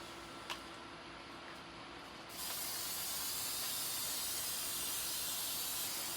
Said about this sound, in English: You want to make sure and spray everything on the inside and outside.